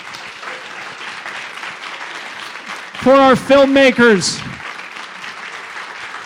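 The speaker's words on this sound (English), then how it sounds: "big round of applause for Jason Hardrath" A live audience at a podcast taping in Denver applauds and cheers for a guest and the filmmakers; steady clapping runs under a host's voice, with a loud burst of whooping cheers in the middle.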